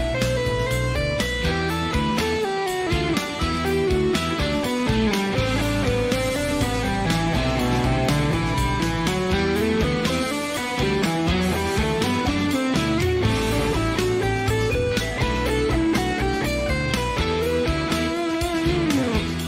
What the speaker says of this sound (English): This time we're going to do some seven-note scales, which maybe sound like this.